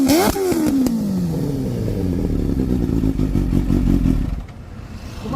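A Kawasaki Ninja H2 superbike fitted with a Brocks full exhaust revs hard, rising sharply and then falling back into a loud, rapid, rattling idle burble that continues close up before easing off near the end.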